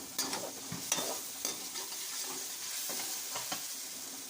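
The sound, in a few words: tomatoes with masala frying in a pan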